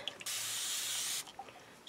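A spray bottle mists water over a gel printing plate during art journaling with gouache, one long steady hiss of about a second in a quiet room, close and loud, with a few faint handling clicks before and after.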